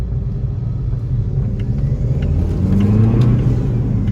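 A car engine held in gear for a loudness test rumbles heavily close by, building steadily with the revs climbing in pitch toward the end, and no one speaks.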